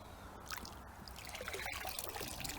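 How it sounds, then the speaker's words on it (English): Water trickles and drains steadily outdoors from the filter housing of a Bestway Lay-Z-Spa hot tub, a close, continuous liquid dribble with no talking. "Just drain off any excess water outside."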